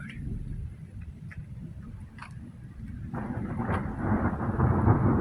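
Rolling thunder from a lightning storm rumbles low and continuous, swelling louder after a few seconds into a heavier roar, with faint ticking and rain-like patter on top.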